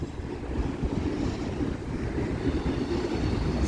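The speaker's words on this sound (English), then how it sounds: "So yeah, he's a pretty decent train for 2 engines." Union Pacific 1996 locomotive leading a manifest freight train, heard as a steady, loud low rumble of rolling cars and engine noise that holds unbroken throughout, with some wind buffeting and no voices.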